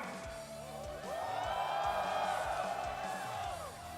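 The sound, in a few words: Chinese fans cheering at esports grand finals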